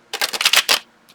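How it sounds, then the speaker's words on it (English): Tarot cards being shuffled by hand, a close, loud burst of rapid riffling flutters lasting under a second, then quiet. "if I could shuffle these cards. Apparently I can't shuffle today."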